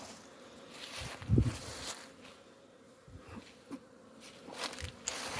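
Bees buzz around a hive at an apiary on a cleansing flight, a steady insect drone close by with a few louder passes near the microphone and light rustling.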